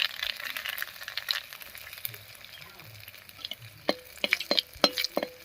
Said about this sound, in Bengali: আর ফোড়ন দেবো শুকনো লঙ্কা আর কালো জিরে দিয়ে